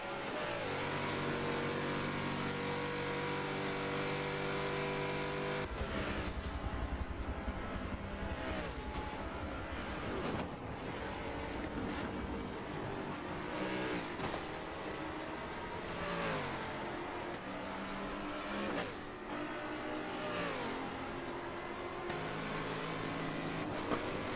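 Prototype-class race cars circle the Watkins Glen short course in an eIMSA sim-racing game, their engines revving, rising and falling continuously as the cars pass one another, with no voices heard.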